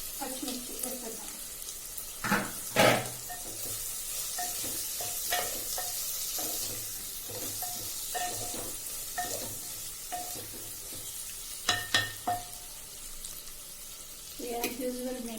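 Onions and green chillies fry in a pan with a steady sizzle, broken by occasional stirring scrapes and clinks, near and moderately loud throughout.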